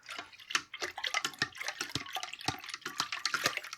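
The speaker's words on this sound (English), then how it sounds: "You can hear the splashing as I'm trying to talk." Honey being stirred into water in a container while making mead, giving a run of quick, close, uneven splashes and sloshes that repeat steadily throughout.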